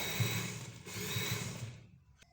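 A sewing machine runs steadily, stitching lace onto a dress at the shoulder seam, its motor humming close and loud for about two seconds before stopping, followed by a faint click.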